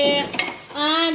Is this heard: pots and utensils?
yes